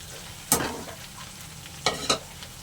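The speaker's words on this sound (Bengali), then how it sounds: "আলুর সঙ্গে একটু ভালো করে কষে নেব" Potatoes with ground turmeric, cumin, Kashmiri chili and coriander sauté in a pan, a quiet close sizzle broken by three sharp stirring scrapes.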